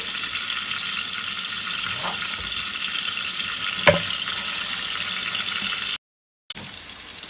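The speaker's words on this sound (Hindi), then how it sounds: "मैं इसके अंदर प्याज डालूंगी और इसको फ्राई करेंगे" Onions sizzle in ghee in a pan, a steady hissing fry with a brief louder crackle midway, then a short gap before the sizzling resumes.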